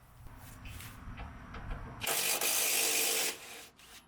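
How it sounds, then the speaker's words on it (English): A ratchet works loose the charge air cooler bolts on a 2007 Dodge Ram 3500 with a 24-valve Cummins, heard close up as faint clicking and then a loud, dense burst of rapid ratcheting lasting about a second, with no talking. "we're going to take loose our charge air cooler bolts"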